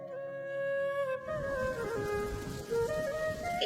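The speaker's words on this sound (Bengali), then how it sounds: "এই রে আবার বৃষ্টি পড়তে শুরু করলো" Cartoon sound effect of rain beginning to fall, a soft broadband patter that starts suddenly about a second in and continues under tonal music.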